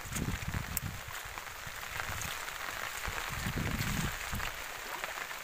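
Rain falling over a bitter gourd field, a steady soft hiss of drops spread evenly throughout with low rustling and patter underneath, moderately quiet and continuous.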